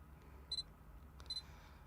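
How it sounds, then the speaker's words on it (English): A Sony camera fitted with a Tamron 17-50mm F4 VXD lens gives two short, high autofocus confirmation beeps about a second apart, with faint focusing clicks in a quiet room. "You can hear more of the Sony's beep itself."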